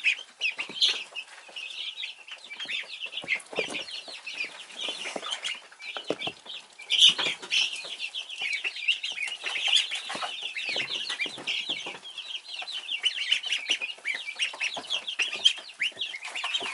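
A brooder full of baby ducks of several breeds giving a dense, continuous chorus of high, rapid peeping, close and steady throughout with no talking.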